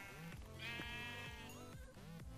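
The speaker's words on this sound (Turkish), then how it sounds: "Bir koyun daha buldum." Sheep in Minecraft bleat repeatedly, a few nasal wavering cries in close succession, clear and near with no talk over them.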